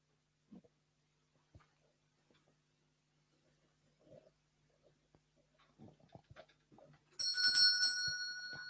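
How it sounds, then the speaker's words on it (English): A bell rings out clearly near the end of a junior school stage production of Macbeth, following several seconds of near silence broken only by faint shuffles and small knocks. "The bell invites me."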